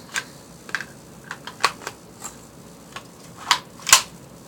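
Plastic clicks and snaps from a custom Lego M4 PDW replica as its bolt catch is pressed and it is cocked for a reload: a scattered run of sharp, close taps with a louder snap near the end.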